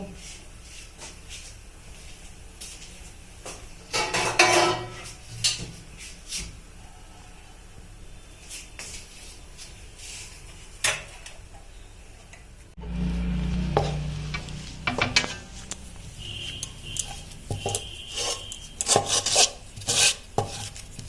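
Rice-flour and cauliflower pitha dough being mixed and kneaded by hand, giving soft rubbing and squishing sounds in bursts with a denser stretch of pressing midway, close and moderately quiet with no talk.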